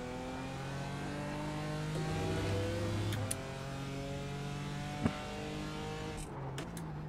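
A GT4 race car in the iRacing simulator at Daytona revs steadily, its engine note rising and shifting in pitch through gear changes, with a couple of sharp clicks; no talk is heard.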